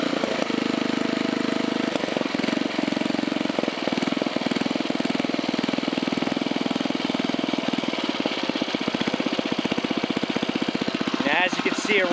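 Briggs & Stratton Sno-Gard 5 hp 206cc winter engine in excellent condition, running steadily at a lowered idle speed, a continuous near mechanical drone with rhythmic firing pulses throughout.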